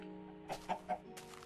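A chicken clucking in three short close calls over a steady faint hum.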